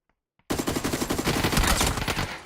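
Rapid automatic gunfire from a PUBG firefight starts abruptly after a brief near-silence with two faint clicks, then a close, loud rattling burst of shots that tapers off toward the end.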